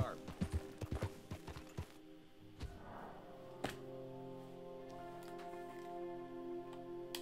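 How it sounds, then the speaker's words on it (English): Hoofbeats of a horse ridden in Red Dead Redemption 2 clop in a quick uneven run at first, then fade, leaving steady in-game ambience and a few faint ticks, with a voice briefly under it. "All I gotta do is sit here, my horse rides for me."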